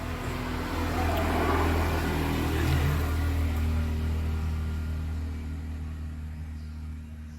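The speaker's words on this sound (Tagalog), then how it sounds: "dami ngayon dumadaan ng mga motor" Motorcycles pass along a residential street, a broad engine drone that swells toward the middle and fades away, heard from outdoors nearby with no talk.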